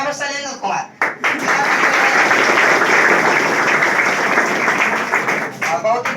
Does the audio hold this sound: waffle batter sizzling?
no